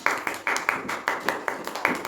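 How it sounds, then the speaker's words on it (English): Children clap together in a steady rhythm after reciting the alphabet, roughly nine sharp, even claps close by with no pauses. "Clap for Shivani."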